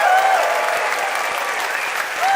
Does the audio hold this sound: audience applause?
yes